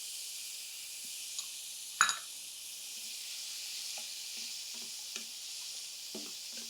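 Boiled peas and cowpeas sautéing in a pan give off a faint, even sizzle, with one sharper clatter of a spatula early on and a few soft stirring touches later, no voices.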